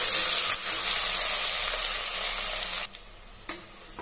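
Onions for country chicken biryani fry golden in a pan with a loud, bright, hissing sizzle that drops suddenly to a quieter bubbling near the end, followed by a soft clink.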